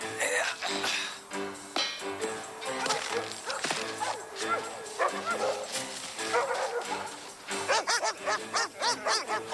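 Several dogs bark and yip loudly and close by at a gate in a fast, overlapping volley, with whimpers mixed in and no clear talk.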